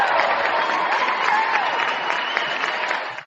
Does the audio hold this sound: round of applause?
yes